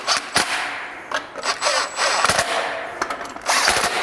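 A power tool driving three screws a little at a time, heard as short, loud, close whirring bursts broken up by brief pauses and clicks.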